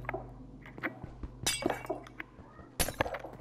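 Black stained glass blocks breaking in Minecraft, several crisp clinking shatters spaced irregularly, two of them especially loud and sharp, over a faint low background hum.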